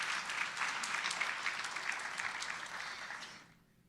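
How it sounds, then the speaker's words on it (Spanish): Church congregation applauding the King, steady crowd clapping from a moderate distance that fades out toward the end. "Dale un aplauso al Rey precioso."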